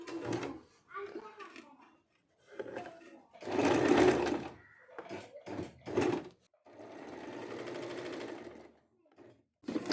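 A sewing machine stitches a double-folded hem on a kurti sleeve in short separate runs of whirring, broken by pauses, with a voice talking between and over the bursts.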